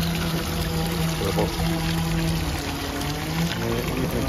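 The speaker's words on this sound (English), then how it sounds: "Quite a waterfall and exposed pipework, running water all the way down from the top of the park" Running water from a long waterfall and exposed pipework descending a terraced park in the Lot, south-west France, pours steadily and loudly throughout, a close continuous rush with a faint voice briefly underneath.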